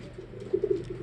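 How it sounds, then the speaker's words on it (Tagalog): Racing pigeons back from a derby coo softly at close range, a short run of low throaty murmurs over faint background noise. "ito yung mga ibon natin"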